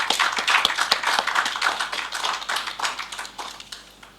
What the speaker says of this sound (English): I believe he deserves a round of applause.